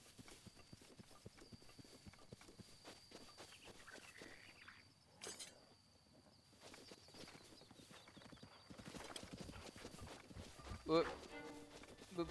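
Horse hooves clip-clop in Breath of the Wild, a steady rapid patter running through most of the stretch at moderate level, with a brief whinny-like tone near the end and game ambience underneath.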